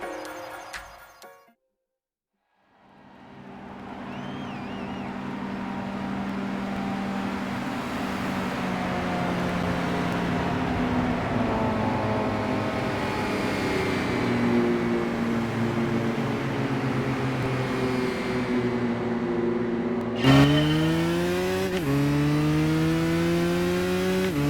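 A Porsche race car engine roars steadily in Gran Turismo 5, holding a sustained high drone after a brief silent gap, then shifting pitch sharply near the end as the revs change, close and loud with no talking.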